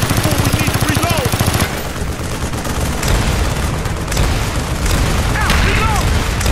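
An RPG rocket explodes during a Call of Duty: Black Ops firefight: rapid machine-gun bursts give way to a heavy, booming blast and rumbling debris, with more gunfire and shouted voices over the loud, chaotic battle.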